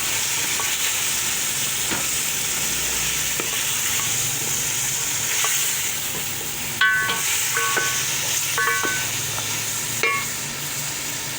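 Green chickpeas, tomatoes and potatoes sizzle and hiss in a pot with a steady frying crackle, while metal utensil clinks and stirring scrapes come through in short bursts.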